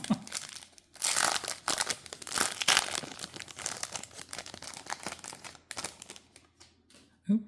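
Star Wars trading card pack wrappers crinkling and tearing open, close and fairly loud in bursts, with brief quiet gaps between handlings.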